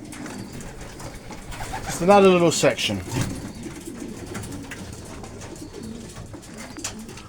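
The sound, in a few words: racing pigeons cooing in a small loft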